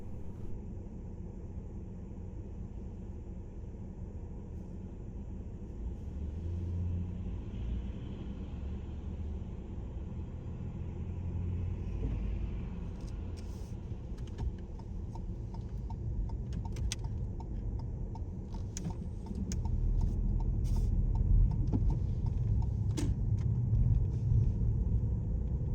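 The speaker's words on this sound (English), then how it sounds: "I've got quite a lot of traffic coming from my right, so I'm going to wait here a bit." Cars pass along a small road on Guernsey's west coast in the early morning, a steady low rumble that swells as vehicles approach and grows louder near the end, with faint ticking clicks in between.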